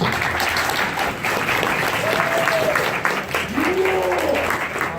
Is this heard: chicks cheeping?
no